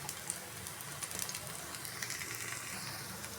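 Vegetable cutlets shallow-frying in oil in a pan over a medium flame, a soft steady sizzle with faint crackles running throughout, no talking.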